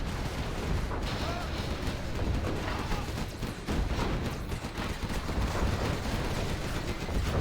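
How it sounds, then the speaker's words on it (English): Nuke cannon shelling in Generals Zero Hour during a Dubai LAN tournament match: continuous dense rumbling blasts and impacts, booming without break, mixed with commentator talk underneath. "These nuke cannons, this wrecking things."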